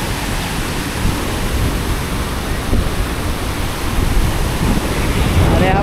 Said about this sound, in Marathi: आणि पाण्याचा फ्लो जास्त वाढलेला आहे.